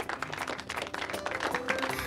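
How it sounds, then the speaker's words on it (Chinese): A small group claps briefly at a family wedding gathering, a quiet, quick patter of hands lasting only a couple of seconds. "鼓掌鼓掌！"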